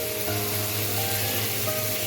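Tomato sauce hits a pan of fried vegetables for crispy corn, giving a steady, dense sizzle and frying hiss that carries on evenly and fairly loud, with no voices.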